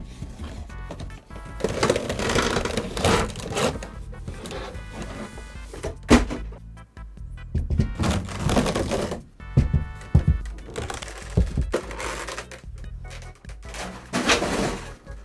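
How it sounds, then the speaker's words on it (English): A Costco-exclusive Pokemon Select 8-inch vinyl figure four-pack box being opened, with bursts of cardboard and plastic rustling, tearing and tapping in irregular clusters, close and fairly loud, no speech. "it's time to open this up"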